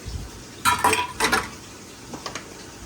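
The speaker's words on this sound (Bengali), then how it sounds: "এখন আমি দিয়ে দিলাম মাছটা মাছটা দিয়ে একটু নাড়াচাড়া করে দিয়ে দেব" Rohu fish is stirred into cooked spice masala in a pan for a bhuna, with a few clattering metal scrapes and clinks of a spoon against the pan over a faint sizzle.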